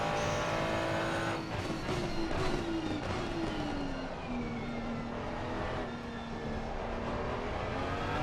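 A Porsche race car at Suzuka's 130R corner in a sim racing game, engine droning steadily with a sliding, falling tonal whine as the car squirms through a big moment, loud and continuous throughout.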